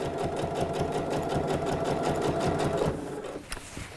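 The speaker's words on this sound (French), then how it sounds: "Et ensuite, je continue ma couture." A sewing machine stitches a trouser pocket seam with a rapid, steady mechanical chatter close by, running for about three seconds before slowing and stopping.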